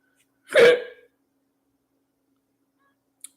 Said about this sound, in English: I'm dealing with hiccup right now.